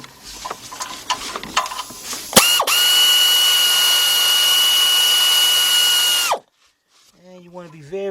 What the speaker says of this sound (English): let me get my 3/8 drive ratchet